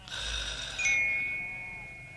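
A sheep bleats loudly and close in a pastoral folk-tale setting, one drawn-out wavering cry lasting about two seconds and fading at the end, with no talk over it.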